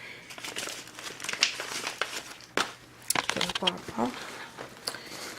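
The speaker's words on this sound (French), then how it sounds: "j'ai enlevé les papiers qui traînent." Paper crinkles and crumples in bursts of crackling rustle, close by, with a voice speaking intermittently over it.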